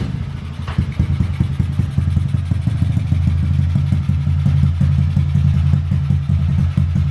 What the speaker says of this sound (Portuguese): Bora funcionar a motinha pra gente ver como ficou